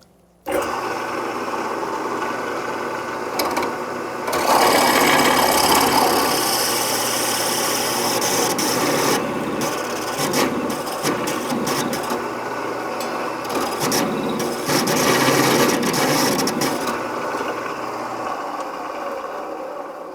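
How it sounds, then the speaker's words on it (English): A dedicated half-inch electric drill whirs into a grand piano pedal bushing, a sustained motor whine with grinding bursts that start and stop irregularly over about twenty seconds, close and fairly loud. "in my kit there I have dedicated 1/2 inch drill, and if I chuck it in a matter of seconds,"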